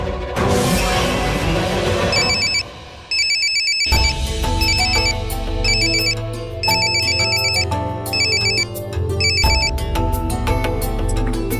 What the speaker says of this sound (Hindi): फोन तो लग गया है साहब, मगर उठा नहीं रहे हैं।